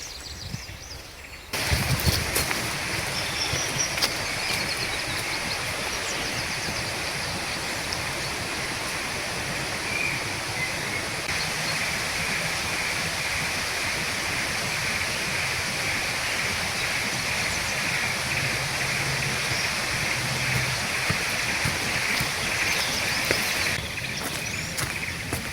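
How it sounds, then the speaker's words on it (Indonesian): Steady rushing water from a river stream or small waterfall below a hiking trail near Pacet, Mojokerto, a dense continuous broadband wash holding evenly for the whole stretch with no talk. "Sepertinya di bawah ada aliran sungai, kayak mungkin"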